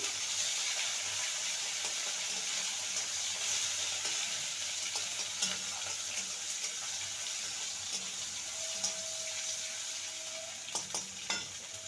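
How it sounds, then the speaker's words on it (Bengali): Chopped tomatoes hiss and sizzle in a hot pan with a bay leaf while being stirred. A steady, close frying crackle runs throughout, with occasional scraping stir strokes and no talking. "টমেটোটাকে কয়েক সেকেন্ড নেড়ে নেব"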